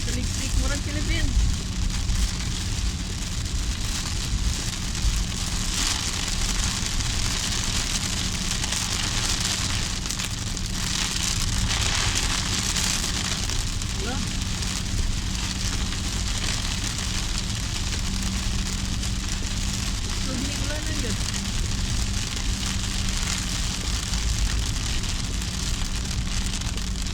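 Heavy rain pours down steadily in the Philippines, a dense continuous hiss of drops drumming on surfaces for the whole stretch, with a low rumble underneath and a voice speaking faintly at times.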